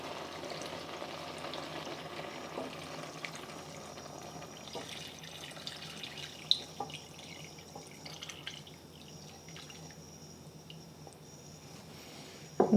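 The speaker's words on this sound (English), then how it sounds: "we're adding 4 cups of the bone broth." Bone broth being poured into a pot of cooked beef for a Korean beef tofu stew (sundubu jjigae) makes a steady, low liquid splashing and sizzling with faint drips, continuous and fairly quiet, with no talking.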